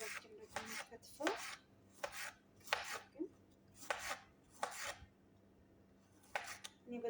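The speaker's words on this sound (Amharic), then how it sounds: "አሁን ደግሞ ካሮቱንና ቃሪያውን በኮሽ በርበሬውን እሱን ከትፋለሁ ማለት ነው" A knife chops carrots and mild chili peppers on a board in a home kitchen: several bursts of quick, rhythmic strokes separated by short pauses, close and crisp, with no speech.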